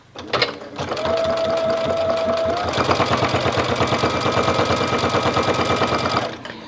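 A sewing machine runs steadily for about five seconds while stitching a hem, set to a long straight stitch with low thread tension. Its rapid needle clatter is loud and close, with no talk.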